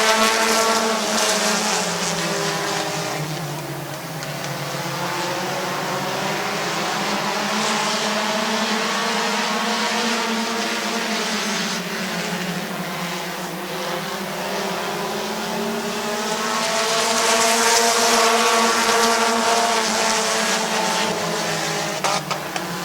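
Stock cars racing at Midvale Speedway during a late-race battle for the lead, engines roaring loud and close with rising and falling pitch as cars pass, swelling strongly near the end.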